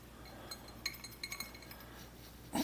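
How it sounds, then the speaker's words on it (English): Cheese being mixed into a pea salad in a bowl, with faint scattered clinks of a utensil against the bowl and a brief louder scrape at the end. "we're gonna mix in some cheese here. We'll mix that in right quick."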